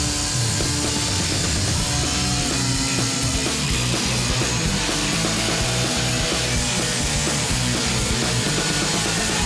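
A power saw cuts into an asphalt driveway, a loud, dense, unbroken grinding roar that stays close and constant throughout, with no voices.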